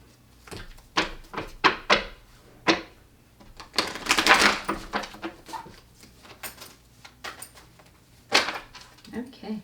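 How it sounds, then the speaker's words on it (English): Tarot cards are shuffled in a series of sharp riffling bursts and taps, close and fairly quiet, with pauses between them and a voice speaking at times. "I'm gonna shuffle the cards right."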